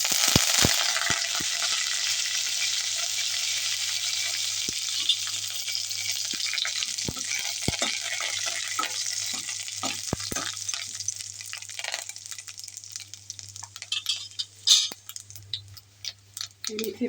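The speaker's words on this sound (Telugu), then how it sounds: "ఆయిల్ వీటెక్కినాక తాలింపు దినుసులు" Tempering spices, chopped garlic and curry leaves hit hot oil for a tamarind-leaf pickle, making a loud, close, crackling sizzle that starts strong and gradually settles into an uneven spitting hiss.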